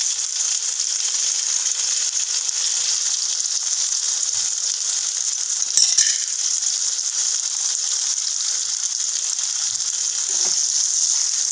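Moringa drumsticks fry in a pan with a steady, bright sizzle of hot oil that holds evenly throughout, close and unbroken, with a couple of faint scrapes from stirring.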